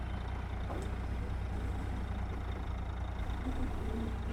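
A Freightliner Powerliner truck engine in American Truck Simulator drones steadily as it coasts off the throttle, a low continuous rumble with a faint hiss and brief clicks over it.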